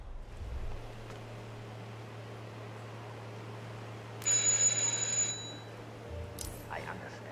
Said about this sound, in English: All right, just ring the doorbell.